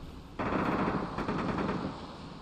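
Gunfire in the DayZ video game on the Namalsk map, a loud sustained burst of rapid shots that starts abruptly and rattles on for about two seconds, heard alone with no talk over it.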